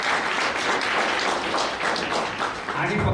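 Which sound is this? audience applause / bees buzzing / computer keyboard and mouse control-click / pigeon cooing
audience applause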